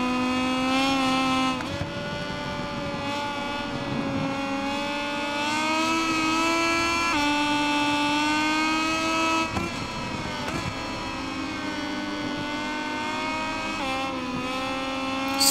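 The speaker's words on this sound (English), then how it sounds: "you get some good racing around here" Motorcycle race engines in the video game MotoGP 21 on PS5, a steady high-pitched whine that rises and falls through gear shifts and corners, loud and continuous with no talk over it.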